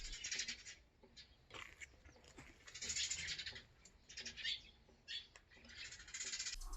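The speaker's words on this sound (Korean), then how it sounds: "가끔씩은 이름 모를 산새들도 날아들고 박새나 곤줄박이들도 자주 놀러옵니다." Wild birds, great tits and varied tits, calling near a house, with bright bursts of chirps and squawks in repeated waves, fairly close, over a quiet background without talk.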